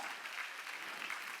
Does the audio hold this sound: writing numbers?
no